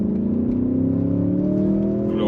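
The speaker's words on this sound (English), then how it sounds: "glorious V8 engine sound." An Audi S8's V8 pulls hard in dynamic mode, a loud, rising engine drone climbing smoothly in pitch from start to finish, close to the cabin, with a brief voice breaking in at the very end.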